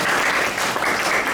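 Audience at a Minority Rights Day event bursts into dense, sustained applause, loud and continuous for the whole stretch with no voices over it.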